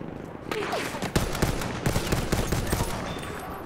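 Rifle fire in Battlefield 1 gameplay, a rapid burst of sharp gunshots over a few seconds, with a voice talking underneath.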